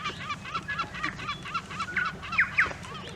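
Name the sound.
seagull calling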